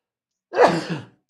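A single short, close sneeze bursts out of silence and trails off quickly.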